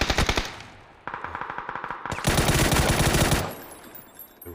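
Bursts of rapid automatic gunfire spray in a video game, a short volley followed by a longer rattling stream and a dense, loud sustained burst before it tapers off.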